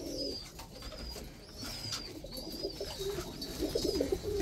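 Tumbler pigeons, including crested tumblers, coo softly and repeatedly against a steady background hum, with a few higher bird calls mixed in.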